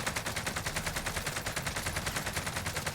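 A Stoner light machine gun in the video game Warzone fires a continuous rapid burst of evenly spaced shots for about three seconds, steady and fairly loud with no talking.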